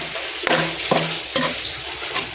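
Gram flour for besan halwa is stirred and fried in oil, giving a steady loud sizzle with a few scraping strokes of the spoon through the mixture, close up and with no talking.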